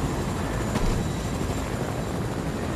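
A helicopter in a video game throbs with a dense, steady rotor and engine roar, loud and unbroken, filling the whole stretch.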